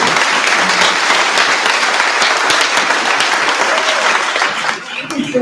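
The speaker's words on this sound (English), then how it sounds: "Let's give a big round of applause for these members." A crowd at a Congressional Gold Medal ceremony for Chinese American WWII veterans in Fresno applauds loudly and continuously, a dense wash of clapping that dips slightly near the end.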